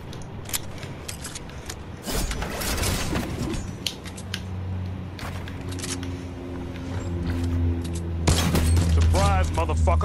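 A shotgun fires in a cowboy-themed Fortnite match: sharp, loud blasts come at irregular intervals among other clicks and clatter, and someone speaks in Spanish over the shots.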